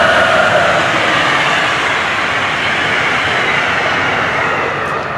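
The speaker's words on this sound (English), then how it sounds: "There's an Amtrak train." An Amtrak passenger train passes near a roadside back lot, its loud continuous rumble and rail roar holding steady and then easing slightly toward the end.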